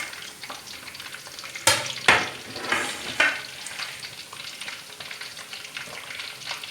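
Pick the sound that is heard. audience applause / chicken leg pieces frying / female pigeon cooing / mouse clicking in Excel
chicken leg pieces frying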